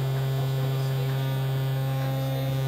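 A Ferry Island four-dimensional wavetable oscillator on a modular synth holds a steady, continuous low drone with a buzzing harmonic stack, unchanging and alone, at moderate level throughout.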